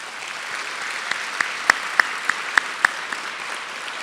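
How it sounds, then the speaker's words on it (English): A dinner crowd gives a round of applause for scholarship winners, a moderate patter of clapping with several sharper individual claps standing out near the middle. "Let's have another round of applause for our scholarship winners tonight."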